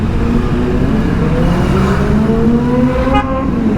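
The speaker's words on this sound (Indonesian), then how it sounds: "ZX25 bro, suaranya heboh banget, buset." A Kawasaki ZX25 motorcycle engine roars loudly and steadily, pitch climbing as it revs, close by with no talk over it.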